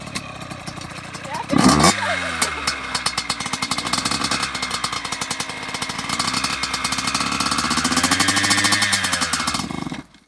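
A Yamaha YZ85 dirt bike engine is throttled up close, its rapid two-stroke pulsing rising and holding loud for nearly the whole stretch before cutting off abruptly.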